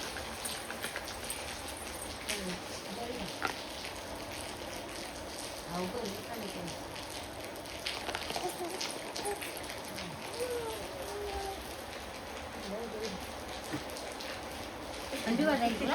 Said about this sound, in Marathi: एवढा जोरात पाऊस चालू आहे की तुम्ही विचारूच नका.